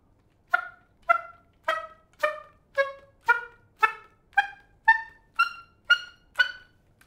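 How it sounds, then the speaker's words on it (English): Oboe slap tongue played with a hybrid of actual pitch, a series of twelve short percussive pitched pops at an even, steady pace, each with a brief ringing tail, close and clear in otherwise quiet surroundings. "Some composers also wish to use this slap tongue or tongue ram in a slightly different"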